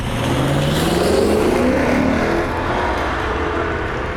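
A Lexus GS F V8 revs up while driving, a steady broadband engine roar with rising tones as it climbs, loud and close throughout with no talking.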